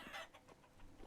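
Chickens on a modded video-game farm give soft, repeated clucks in short irregular bursts, quiet and close, with no talking over them.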